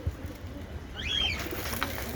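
Pigeons kept in an open coop, with a soft bird call and a brief chirping trill rising over quiet outdoor background.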